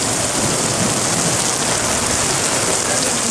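A heavy rain shower falls during a Benidorm thunderstorm, a dense, loud and steady hiss of drops striking surfaces, with no voices heard.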